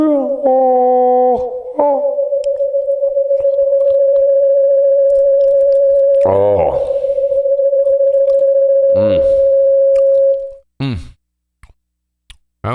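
A steady pure tone near 500–530 Hz holds loud and unbroken for about nine seconds, preceded by short stepped tones and followed by brief voice-like bursts.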